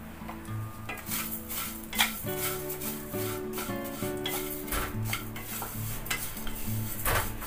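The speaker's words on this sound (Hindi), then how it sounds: "तो सेवई को लो फ्लेम पे इसको एकदम ब्राउन भूनना है।" Thick vermicelli roasts in hot ghee over a low flame for sewai kheer, a spoon scraping and clinking steadily against the pan beneath a soft, constant sizzle, close by and without talking.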